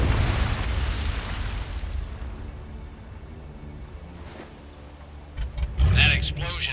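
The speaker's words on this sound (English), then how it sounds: "That explosion got the attention of all the German patrols in the area." A deep booming blast in the video game Medal of Honor: Above and Beyond fades into a long low rumble, followed by scattered crackles and a voice speaking near the end.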